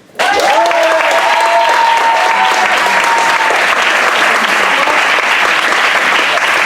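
Loud, dense audience applause at a comedy show bursts in suddenly and keeps going steadily, with a sustained shout or cheer riding over the opening seconds.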